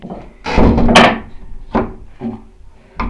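The small door of an apiary house for sleeping over beehives swings shut, giving a loud close wooden thud followed by several lighter knocks and clunks of the latch over a few seconds.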